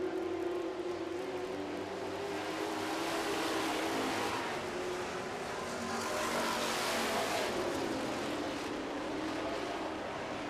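Super Truck stock-class race trucks roar down the back straightaway of an oval track in heat racing, a loud continuous engine drone with several trucks swelling and passing together, no voices on top.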